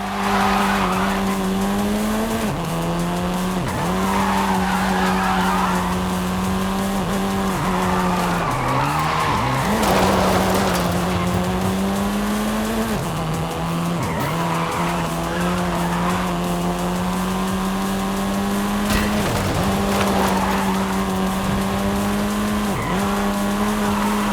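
A car in the Forza Horizon 5 racing game, set in Mexico, drives hard with a steady droning engine tone while tires squeal and skid repeatedly through corners, loud and continuous with no talking.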